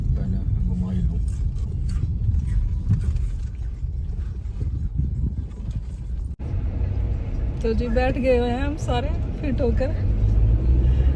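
An overloaded car carrying a full load of passengers runs with a steady low engine rumble throughout. Someone talks over it from inside the cabin, and there is a brief thump near the middle.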